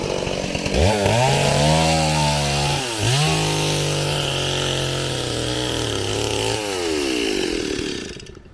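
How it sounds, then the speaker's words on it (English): A chainsaw roars loudly and steadily, its engine pitch dipping as it bites into big chunks of wood for boatbuilding in Chile, briefly easing off and revving again throughout. "They take the chainsaws and cut the pieces."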